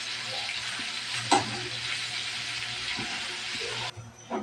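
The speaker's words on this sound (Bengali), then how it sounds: "মুরগিটা একটু ভাজা হয়ে গেছে। এখন মুরগিটা উল্টিয়ে নেব।" Chicken fries in mustard oil in a pan, a steady close crackling sizzle with a couple of sharp clinks from stirring and a brief drop near the end.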